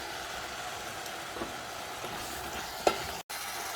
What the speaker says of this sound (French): Là, je viens rajouter mes 2 oignons que j'ai découpés grossièrement